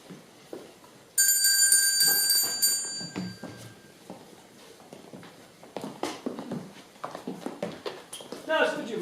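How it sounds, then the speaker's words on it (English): A bell rings out brightly for about two seconds, its sustained shimmering tone fading while footsteps and rustling movement follow in a quiet room. "Ring the bell, please."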